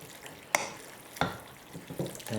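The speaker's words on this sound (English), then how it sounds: "now I'm going to add the beaten egg to the mix, to the nut roast. I'm going to mix that in." A spoon stirs beaten egg into a nut roast mixture made with vegetable stock and red lentils, giving two soft wet scraping strokes followed by quieter mixing sounds, close by with no talk.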